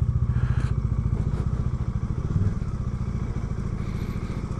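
A Bajaj Dominar 400 motorcycle climbs a steep mountain road, its engine thumping in a steady, loud, close pulse with rattling clatter throughout, without pause.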